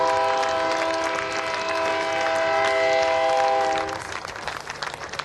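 A train horn blows long and loud at a rail museum groundbreaking in Frisco, Texas, its stacked steady tones holding for about four seconds before cutting off into rumbling outdoor crowd noise.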